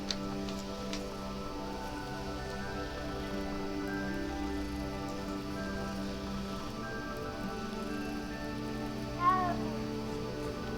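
A cat meows in the video game Hogwarts Legacy, heard against a sustained musical background with light rain, the meow standing out briefly near the end.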